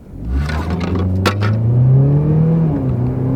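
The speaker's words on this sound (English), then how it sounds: "Actually, the idle's pretty smooth." An old car that sat unused for months runs nearby, its engine a loud, close drone with the pitch rising and easing as the revs change.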